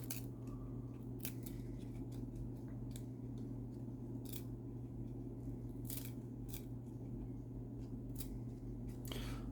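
Stuck Topps 1999 baseball cards being peeled apart, a scattered series of quiet, crisp tearing and ripping snaps close by over a steady low hum.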